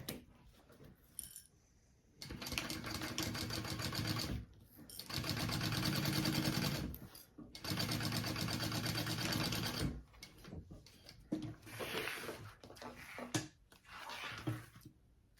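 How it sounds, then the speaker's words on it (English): A sewing machine bastes a flap onto a bag panel in several sustained stitching runs separated by brief pauses, followed by shorter, irregular bursts. It is close and loud, with no talking. "I'm going to baste this flap onto this piece real quick."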